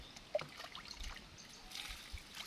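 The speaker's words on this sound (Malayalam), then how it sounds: "ഇത് മൂട്ടിലോട്ട് ഇങ്ങനെ ഒഴിച്ചു കൊടുക്കണം തണ്ട് കൂട്ടി ഒഴിച്ചു കൊടുക്കണം" A fungicide solution is poured at the base of a pepper plant's stem, a soft trickle and splatter soaking into the soil around the roots, quiet and close, with one sharper drip near the start.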